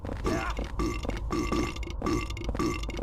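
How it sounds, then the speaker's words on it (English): Characters in the horror video game Silent Hill 4 let out a rapid series of loud, close burps, one with each step, repeating steadily and alone without speech. "every time they hit a step, they will burp."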